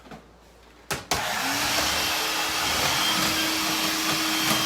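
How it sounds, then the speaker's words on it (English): A vacuum cleaner switches on and runs loud and steady across a floor being cleaned with scrubbers, its motor settling into a constant close whine after a couple of brief bumps at the start. "So the vacuum helps just to kind of get anything that sweeping didn't get up."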